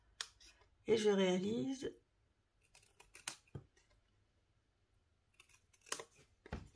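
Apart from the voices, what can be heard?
scissors cutting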